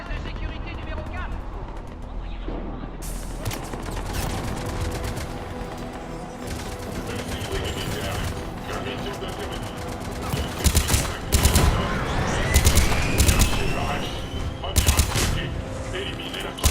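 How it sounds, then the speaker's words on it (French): Enemy gunfire in Mass Effect 3 crackles in rapid bursts and volleys at a security base, loud and close in the later part, mixed with game effects and voices speaking over the shooting. "Nous essuyons des tirs ennemis depuis la base de sécurité numéro 4."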